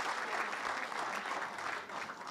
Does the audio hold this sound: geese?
no